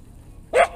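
A dog wearing a tracker gives a single short, sharp bark, close and fairly loud, after a stretch of quiet low background noise.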